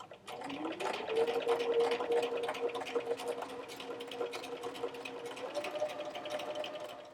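A sewing machine stitches vinyl fabric for a doll shoe, its steady motor whir and rapid needle chatter running continuously and close by, with no talking.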